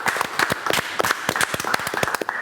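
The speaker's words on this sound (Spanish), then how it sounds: "Y lo cerramos con un aplauso" Brief applause from a studio audience closing a science lecture segment, a dense patter of individual hand claps, fairly close and steady for a couple of seconds.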